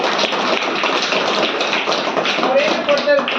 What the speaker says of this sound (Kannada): ಎಲ್ಲರೂ ಚಪ್ಪಾಳೆ ತಟ್ಟಿ